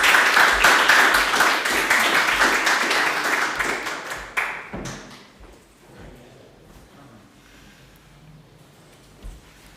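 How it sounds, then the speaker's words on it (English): An audience at a startup pitch competition applauds loudly for about four seconds. The clapping then thins and fades into quiet room tone with a few scattered late claps. "An applause, please."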